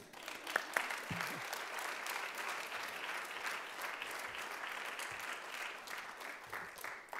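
An audience at the Burlington Book Festival applauds to welcome a poet, a steady, moderately distant patter of many hands holding at an even level, with a brief voice near the start.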